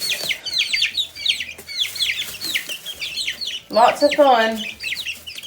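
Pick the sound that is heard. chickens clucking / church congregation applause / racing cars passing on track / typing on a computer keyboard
chickens clucking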